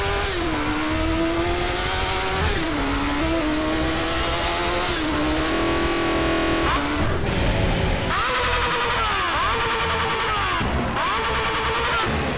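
A lowered motorcycle engine in GTA San Andreas drones loudly and steadily, its pitch rising and falling through revs with buzzing harmonics, running continuously without pause.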